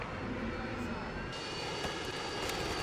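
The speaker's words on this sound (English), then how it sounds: "Friendly helicopter inbound." A friendly helicopter approaches in Modern Warfare 2 on the Favela map, a broad, steady engine roar filling the scene, with faint radio chatter and battle noise beneath.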